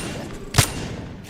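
A single close gunshot from a gun in the video game Apex Legends, one sharp crack with a low thump, standing briefly above a steady murmur of in-game background noise.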